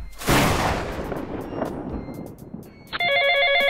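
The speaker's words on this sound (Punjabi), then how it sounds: "ਆ ਗਿਆ ਫੋਨ" After a sharp bang and a decaying rumble, an electronic telephone ring starts near the end, a fast warbling trill, loud and close.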